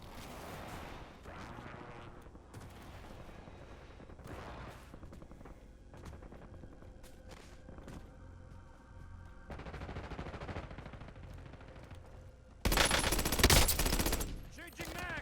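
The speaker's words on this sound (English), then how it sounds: "Taking effective fire." Rapid automatic gunfire in a video game shooter, with bursts of rifle fire from an AUG-style weapon crackling at mid distance, then a loud close burst near the end; a player speaks intermittently over the shots.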